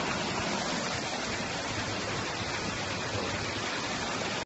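A backyard waterfall in a canyon pours in a dense, steady broadband rush, loud and close, continuing unbroken until an abrupt cut at the end.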